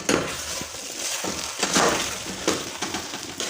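Rice is stirred with ghee in a pot for Punjabi-style gur rice, giving close scraping and clinking of a spoon against metal with irregular clatters and a soft rustle of grains, no talking.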